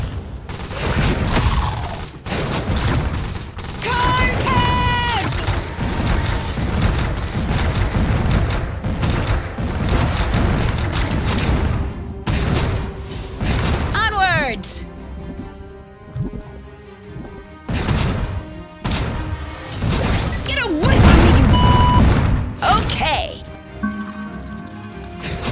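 Gunfire from the video game Iron Marines, bursts of shots and booms scattered throughout amid heavy metal music, game effects and frequent talking.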